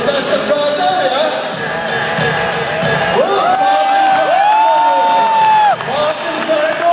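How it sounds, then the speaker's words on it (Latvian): Crowd cheering and whooping at an FMX freestyle motocross show in Riga, a loud continuous roar of many voices with rising shouts and a few sustained yells layered over the din. "Mārtiņš vajag ovācijas."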